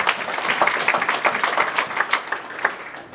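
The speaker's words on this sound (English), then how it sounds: "Clap your hands beautifully for Jesus Christ." A congregation claps along at a church testimony gathering, the dense, steady hand claps holding through the whole span, moderately near and without talk.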